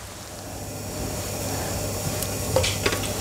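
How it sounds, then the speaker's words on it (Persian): Chicken nuggets fry in a pan with just a little oil, making a soft, continuous sizzle over a low hum, with a couple of light utensil clicks near the end and no speech. "چیکن نگتس را که جور کردیم، میخواییم که در مابین روغن خیلی کم اضافه کنیم"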